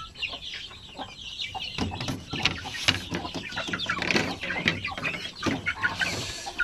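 Backyard chickens and young chicks cluck and cheep in a continuous close chorus, with scattered sharp peeps and short calls overlapping throughout.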